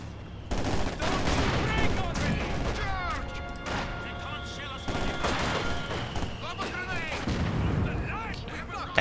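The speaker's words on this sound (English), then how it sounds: "the mortar handled them." Mortar and gunfire in the World War II strategy game Company of Heroes 2, a dense clatter of loud blasts, rattling shots and impacts across the battlefield, with game voices calling out over the din.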